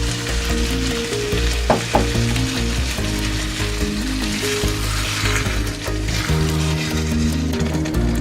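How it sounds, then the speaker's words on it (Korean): Bell pepper stir-fries in a white Corningware pot, a steady crackling sizzle with occasional stirring knocks, underlaid by a loud constant low droning hum. "파프리카를 넣고 살짝 볶은 뒤 준비해둔 토마토 소스를 넣어주세요."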